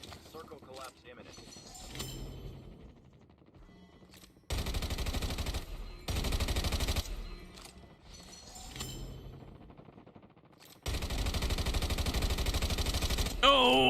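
Gunfire in the mobile shooter Call of Duty: Mobile during a battle royale match: two long sustained bursts of loud automatic fire with quieter gear and movement noise between them, and talk heard throughout.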